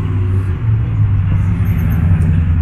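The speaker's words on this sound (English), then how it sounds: "Another Mustang." A Ford Mustang drives past at a car gathering, a steady loud low engine rumble lasting the whole moment with no clear rise or fade.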